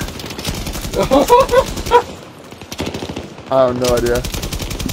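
Light machine gun fire in Battlefield 2042, with rapid, loud bursts of shots running under excited players talking over the action.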